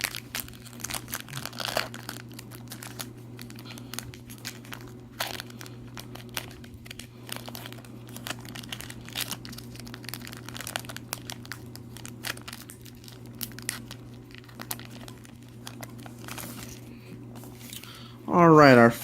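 A Born of the Gods booster pack being torn open, heard as a short, loud burst of crinkling foil near the end. Most of the stretch before it is low hum and faint handling.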